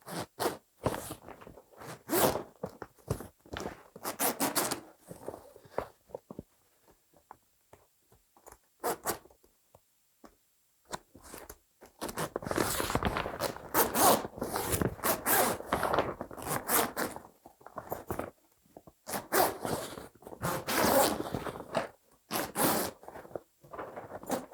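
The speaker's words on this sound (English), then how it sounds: "once you have this zipper started, what you're going to do is you're going to walk it all the way around the tent" A zipper on a 5 x 5 Gorilla grow tent is drawn around the tent in repeated close, scratchy runs, bursts of zipping separated by short pauses, with longer continuous stretches midway.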